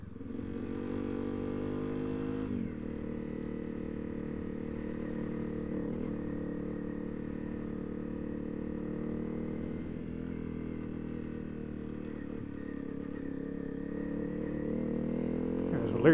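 A Honda CRF250L motorcycle rides a muddy winter road, its engine a steady, close droning hum that holds throughout with slight rises in revs, while a voice talks over it.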